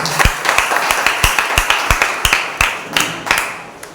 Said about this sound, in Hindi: आइए परमेश्वर के आदर के लिए एक जोरदार ताली